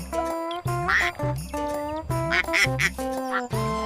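A cartoon duck quacks in rapid, loud, nasal bursts, one after another with short gaps, close and exaggerated.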